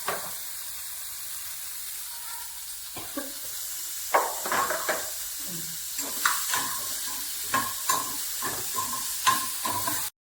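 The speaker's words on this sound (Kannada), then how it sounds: "ಪನ್ನೀರ್ ಈ ಥರ ರೋಸ್ಟ್ ಆಗೋ ತನಕ ಫ್ರೈ ಮಾಡ್ಕೋಬೇಕು." Paneer frying in masala in a pan until roasted: a soft continuous sizzle with repeated scraping stirs, each stroke a short clatter recurring every second or so, close and moderately loud, with no talk.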